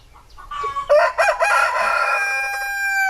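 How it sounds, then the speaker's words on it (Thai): A breeding rooster kept on a farm with hen coops lets out one loud, close crow, a rising call that stretches into a long sustained note, with no talk over it. "เป็นพ่อไก่พ่อพันธุ์อ่ะ น่าจะใช่เออนี่เป็นพ่อพันธุ์"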